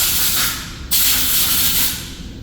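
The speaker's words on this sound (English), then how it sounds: "When I blow that out, I just want to give it a light dusting everywhere to ensure that there's no loose powder on the surface." Compressed air blasts out of a powder-coating gun nozzle during cleaning of a GX141 gun, a steady loud hiss that jumps in force partway through and then tapers off.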